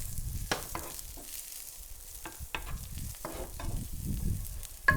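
Roasted mushrooms and cauliflower get tossed in a hot pan, a crackling sizzle with uneven bursts of scraping and rattling as the vegetables are moved around, up close and without speech.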